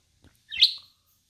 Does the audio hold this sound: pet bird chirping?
yes